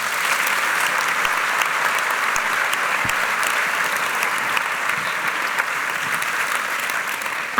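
A theatre audience at the Teatre Principal de Terrassa applauds during a play presentation, a loud, even, continuous round of clapping from a full house.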